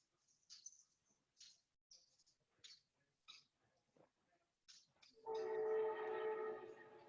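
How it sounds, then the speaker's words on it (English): A train rumbles past at moderate distance, a steady roar building in the last two seconds after several short sharp knocks or clicks. "I hear a train."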